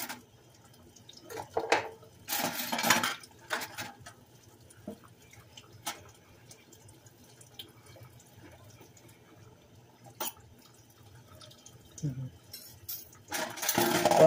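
Dishes being washed at a sink, with scattered clinks, clatters and splashes of water coming in bursts between quieter stretches, fairly close.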